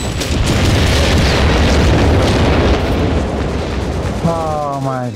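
Heavy explosions and bombing rumble through a battle in Company of Heroes 3, as a loud, continuous roar of blasts fades somewhat toward the end.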